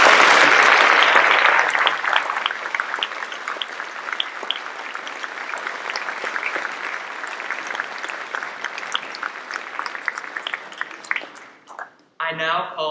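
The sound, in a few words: audience applause at awards ceremony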